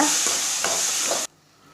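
Potatoes sizzle steadily in a hot pan while a spoon scrapes through them in three quick stirs, then the sound cuts off abruptly.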